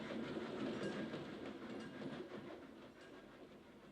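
The Madrid Express, a passenger train in Spain, rolls past with a broad rumbling roar and faint rhythmic clatter of wheels on rails, loud at first and gradually easing as it moves away.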